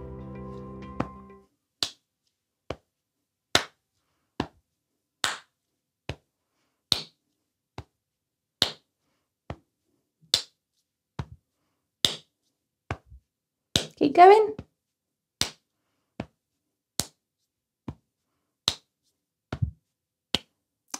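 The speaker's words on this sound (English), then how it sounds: "We're gonna keep a steady beat using a chest tap and then a clap." Body percussion keeps a steady beat, alternating chest taps and hand claps in crisp, evenly spaced hits, close and clear for about twenty seconds; a voice speaks briefly at the start and once midway.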